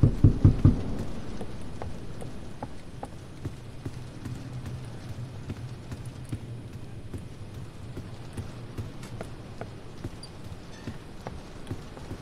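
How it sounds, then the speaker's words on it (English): Steady rain with scattered soft thuds in the horror video game Doors, a muffled thunder rumble opening the stretch before it settles into a constant low hiss for over ten seconds. "that's just the lightning"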